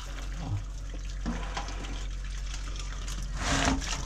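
Water is poured off while straining coconut milk in an outdoor Philippine kitchen, a steady splashing and trickling stream that swells louder near the end.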